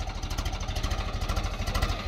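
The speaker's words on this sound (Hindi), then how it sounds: "देखो भाई कितनी आराम से ट्रैक्टर चल रहा है ऊपर" A Swaraj tractor engine labors up a steep slope in low gear with no driver aboard, a steady, loud, rhythmic diesel chug pulsing quickly and evenly throughout.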